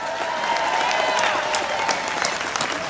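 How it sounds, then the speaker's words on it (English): Loud, steady applause from a crowd of a couple thousand people at a St. Charles Tea Party rally, dense and sustained throughout with a few scattered cheers rising above the clapping. "let's give them a round of applause"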